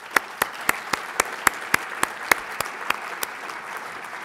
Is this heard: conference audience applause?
yes